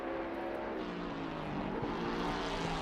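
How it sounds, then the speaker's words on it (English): Aston Martin V8 race car engine in a racing game at Monza during a four-hour endurance race, a steady loud drone holding constant throughout, close and alone with no talk. "I just love the sound of the V8 of this thing."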